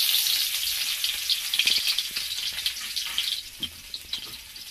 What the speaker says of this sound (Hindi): और प्याज अभी डाल देते हैं तेल में